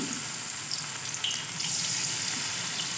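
Cabbage pakoras sizzle in hot oil with a steady, close frying hiss dotted with small crackles and pops throughout, no voices present.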